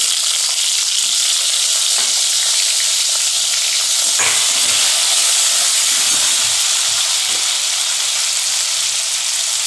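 Tomatoes sizzle and fry in a hot pan for a pumpkin chutney, a steady, loud hiss of frying that runs throughout with occasional soft stirring clatter and no talking.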